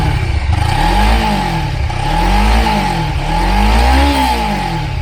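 A motorcycle engine, started on the self-starter, runs at a steady close idle with a smooth, even throb and gentle rhythmic swells in pitch, loud and alone without voices.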